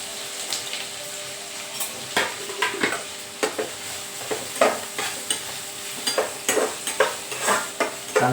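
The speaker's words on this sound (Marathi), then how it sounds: "मिरची टाकलेली त्याच्यामध्ये कांदा जरा भाजून घेऊया." Onion and green chillies frying in a pan, with repeated sharp spatula stirs and scrapes over a soft sizzle, close and uneven in rhythm, no speech.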